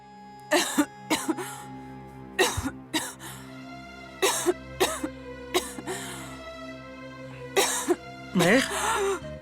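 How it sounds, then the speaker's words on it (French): A mother coughs hard and repeatedly in a series of separate harsh bursts with short gaps between them, close and loud. "Pourquoi est-ce que tu tousses comme ça?"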